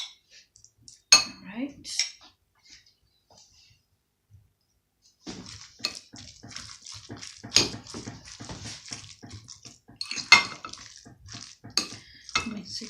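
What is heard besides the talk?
mixing tuna sandwich filling in a bowl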